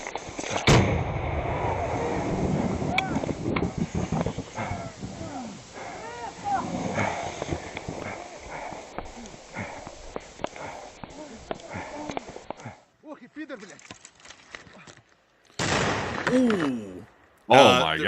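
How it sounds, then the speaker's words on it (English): Explosions and gunfire in a war zone: several sharp blasts, some close, ring out amid crackling shots, with brief gaps and a loud final burst near the end. "There was an explosion nearby."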